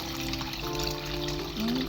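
Water pours over washed basmati rice in a bowl in a brief, close trickle and gurgle, with a faint hum of voice beneath it.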